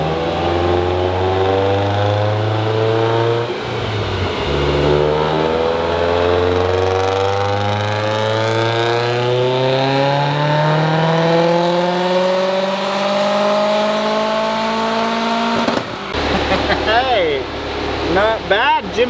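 A Subaru WRX with a stock EJ255 engine, stock 5-speed, titanium exhaust, Cobb downpipe and Grimmspeed equal-length headers revs on a dyno, the engine pitch climbing steadily through the gears in a long loud pull before dropping off sharply.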